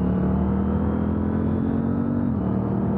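A KTM 890 Duke R motorcycle hums along under way, its engine a steady low drone that dips slightly in pitch near the end, with wind noise and no voices.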